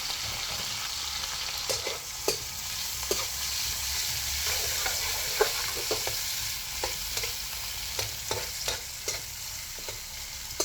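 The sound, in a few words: onions frying in pan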